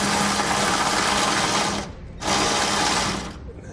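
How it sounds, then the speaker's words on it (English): Ratchet with an 11mm socket tightening the bolts of a fuel pump control on a 2017 Toyota Tundra, a steady rapid mechanical clicking that runs loud and close with two brief pauses. "Next we'll take an 11mm socket and 11mm wrench, and we can tighten down our hardware that's holding on our fuel pump control."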